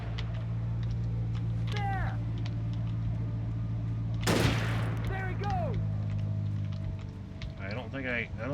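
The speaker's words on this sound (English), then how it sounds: "Who is shooting?" A sharp burst of gunfire from the Alan Wake video game rings out once midway through, over a steady low hum, with faint chirping sounds scattered around it.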